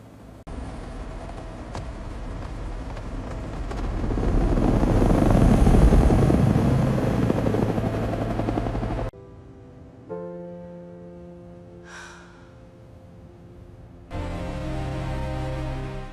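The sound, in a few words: helicopter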